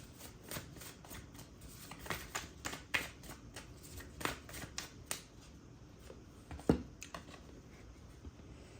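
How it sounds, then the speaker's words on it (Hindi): Tarot cards being shuffled by hand, a run of soft, close riffling flicks and taps in uneven bursts, with one sharper snap near the end. "we have to shuffle more"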